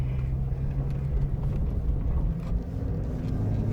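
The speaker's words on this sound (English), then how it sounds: "we'll just shut the hood and we'll go for a quick drive" A Trailblazer Envoy with a swapped-in 4.2 engine drives along, giving a steady, loud low engine and road rumble heard from inside the vehicle.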